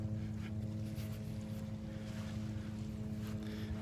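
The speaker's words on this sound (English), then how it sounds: "mosquito control helicopters coming up the beach" Mosquito control helicopter flying up a beach, a steady low rotor and engine drone heard from a distance under faint wind and surf, no one speaking.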